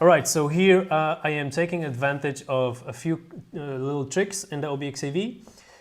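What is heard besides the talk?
None of the usual background noises is heard.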